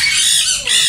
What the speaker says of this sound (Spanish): Pero pues está lleno aquí de aves, amigos.